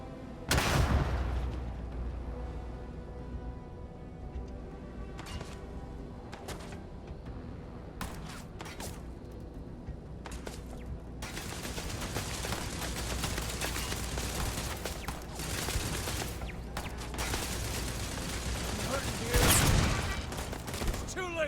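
Gunfire crossfire in the space video game Starfield: rapid bursts of shots and impacts crackle over a steady background of combat noise, with a loud blast near the start and another near the end.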